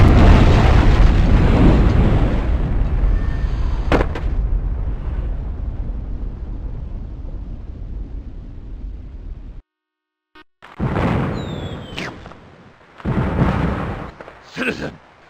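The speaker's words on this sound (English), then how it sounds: "Those crates are full of firecrackers!" A loud roaring blast of crackling video game firecracker explosions fades into a long rumbling tail, then a brief silence, followed by sharper bursts and pops.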